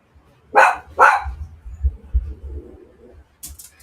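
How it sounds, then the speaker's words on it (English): Two sharp dog barks ring out close together near the start, followed by low rumbling background noise and a brief higher sound at the end, with no talking. "Dogs are pissed off they did that too."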